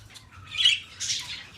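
Budgies chirping in a breeding aviary, two short bright squawks about half a second apart, close and fairly loud over a faint low background hum.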